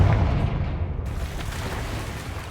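A Confringo explosive spell goes off in Hogwarts Legacy, a loud booming blast at the start that fades into a rumbling, crackling tail lasting a couple of seconds, with no talking.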